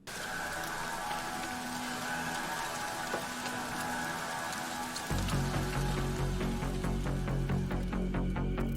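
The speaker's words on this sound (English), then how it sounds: "Kind of cool to have the rain in there." Steady rain patter runs under a metal song, with low droning music growing louder midway while the rainfall continues.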